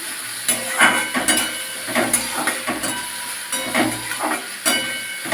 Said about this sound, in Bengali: পেঁয়াজটা খুব সুন্দর করে ভেজে নেব পেঁয়াজটা ততক্ষণ ভাজা হতে থাকবে